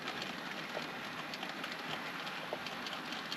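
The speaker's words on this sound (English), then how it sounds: "So what train are we seeing moving out here? The Blue Pullman." Blue Pullman model train running on a 1962-era model railway layout, a soft continuous whirring rumble with light clicking of wheels over track, fairly quiet and close.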